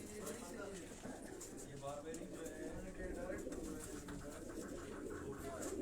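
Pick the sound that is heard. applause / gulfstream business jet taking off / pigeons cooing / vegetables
pigeons cooing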